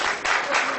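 Audience applause at an interview event, a dense continuous wash of clapping with a brief dip partway through, fairly loud and steady across the short span.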